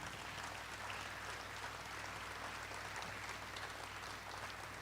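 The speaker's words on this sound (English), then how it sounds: "I wish you would give these kids and old men a round of applause, please." Banquet guests at an athletics Hall of Fame dinner applaud a national championship team standing to be recognized, a steady, continuous patter of many hands heard from some distance in a large room.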